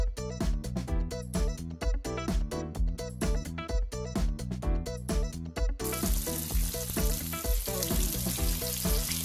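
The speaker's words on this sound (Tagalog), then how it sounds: "Magluluto ako ng bulad, guys, para sa ating ulam ngayong tanghalian." Bulad, dried fish, frying in a pan at lunchtime, with a dense steady sizzle and rhythmic crackles that grow brighter and hissier halfway through, close and fairly loud with no talking.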